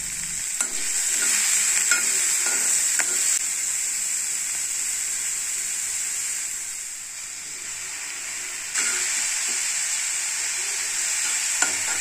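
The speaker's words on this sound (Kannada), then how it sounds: "ಸ್ವಲ್ಪ ಕೆಂಪನೇ ಹುರಿಬೇಕು ಇದು ಲಾಸ್ಟ್ ಒಗ್ಗರಣೆ." Onion and tomato sizzle and crackle in hot oil as the final tempering for sprouted horse gram saaru, a steady close fry with occasional stirring scrapes and no talk over it.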